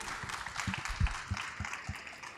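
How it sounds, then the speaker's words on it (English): An audience at a Dubai industry expo conference applauds its panelists, a fairly soft, even spread of clapping with a few sharper claps standing out near the middle. "I'm going to ask you for a big round of applause for our panelists"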